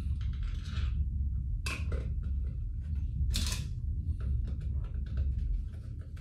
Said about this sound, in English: Now I'm going to proceed to screw it in.